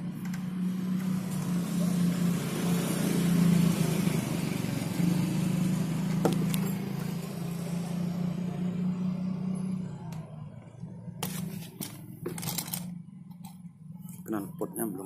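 A Suzuki Satria FU motorcycle engine runs with no exhaust fitted, a loud raw idle that drones steadily before easing off near the end, while people talk over it.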